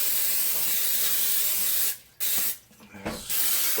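Cooking spray pressed onto the lid of a Corningware dish, a loud close hiss that runs steadily, cuts out, then returns in two shorter bursts before resuming.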